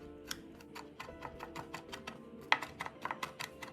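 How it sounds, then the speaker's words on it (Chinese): Soaked, drained dried shrimp being minced with a knife on a board, a series of light, quick, fairly faint taps in an uneven rhythm, with one sharper knock partway through. "沥干后的虾米剁碎备用"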